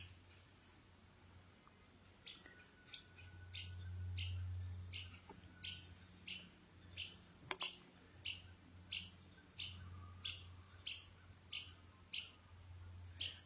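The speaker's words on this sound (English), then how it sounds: "I got the birds chirping out there" Small birds outdoors chirp in quick, regularly spaced bursts, repeating a short call over and over at moderate distance above a low background hum.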